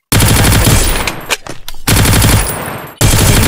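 Rapid automatic gunfire from two guns in a shooter video game, loud sustained bursts with brief pauses between volleys, close and dominant throughout.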